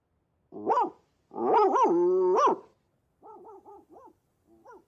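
A voice imitates a dog: one long bark, two short yelps, then a few brief whimpers trailing off, close and clear against silence.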